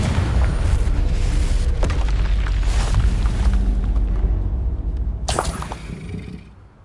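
A Confringo fire spell explodes in Hogwarts Legacy on PS5, a heavy rumbling boom with crackling debris that fills most of the stretch, then a sharp burst near the end before the sound fades out.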